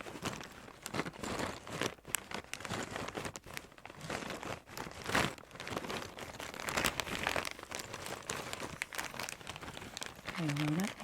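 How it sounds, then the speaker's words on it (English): A plastic bag is crinkled close up in a quiet indoor setting, giving bursts of crisp rustling and crackling that come and go in uneven waves, with a faint voice briefly heard near the end. "I will crinkle them a little bit."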